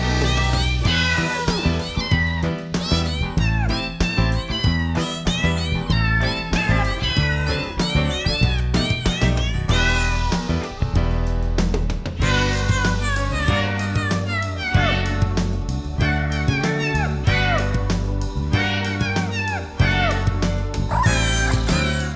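Video game cats meow in pitched, rhythmic phrases, forming a full musical cover of a song from a PS1 title, with dense, continuous layered meows over a steady backing beat throughout.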